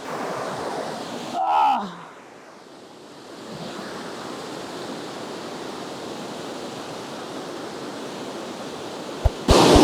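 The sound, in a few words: Kothapalli waterfall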